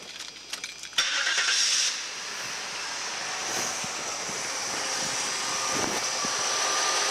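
A car engine cranks and fires after a service, a sharp start followed by a steady, fairly quiet idle with a few clunks and faint tool noises nearby, no voices.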